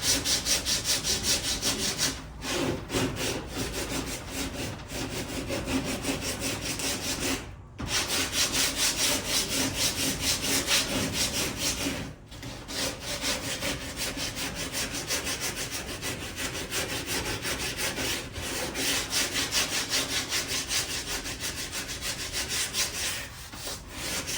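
Someone sands a fiberglass fender flare by hand, a steady, close rasping scrub that runs continuously with brief pauses between strokes.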